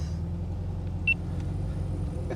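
Steady low engine rumble of a 1978 Volkswagen Super Beetle convertible on the move, a continuous drone with a brief faint beep partway through and no voices.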